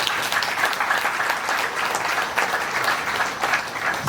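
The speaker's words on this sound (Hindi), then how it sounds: "अब ताली बजा सकते हैं।" An audience at a spiritual talk breaks into steady, close applause, a dense even patter of many hands clapping with no voices over it.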